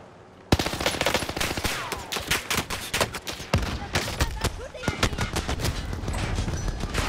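A rocket is fired at an enemy helicopter in Call of Duty: Modern Warfare, amid loud, dense gunfire, heavy booming blasts and sharp cracking shots that continue without a break.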